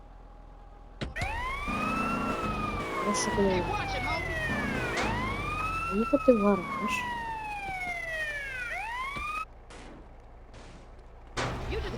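Police car siren in the video game GTA San Andreas, rising and falling wail sweeping loudly through most of the clip, with game sounds and someone talking over it before it cuts off.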